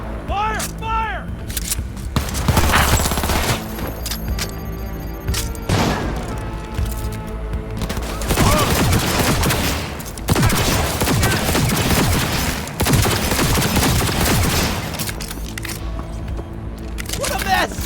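Cyberpunk 2077 gunfight with sustained automatic bursts and booming shots in loud repeated waves, layered with shouted game dialogue.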